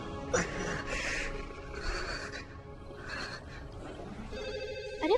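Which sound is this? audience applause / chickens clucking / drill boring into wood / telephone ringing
telephone ringing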